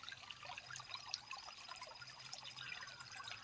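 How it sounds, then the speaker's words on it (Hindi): A stream of flowing water runs outdoors, a faint, steady trickling rush that holds an even level throughout, with no voices. "यहाँ पे सुनिए पानी की धारा।"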